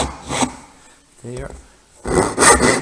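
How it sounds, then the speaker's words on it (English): A tenon saw cuts relief kerfs in wood, with short rasping strokes at the start and a louder run of close sawing at the end, and a single spoken word in the quiet gap between. "Let's say 2 relief cuts there and there. The tenon saw."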